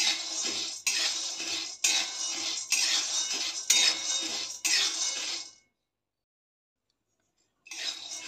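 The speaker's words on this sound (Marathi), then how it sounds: "सोयाबीन चांगले भाजले की ते फुटायला लागतात." Soybeans dry-roasting in a pan for a home snack mix: close, loud bursts of crackling and rattling that come in a steady rhythm for several seconds, then stop and fall silent before starting again briefly.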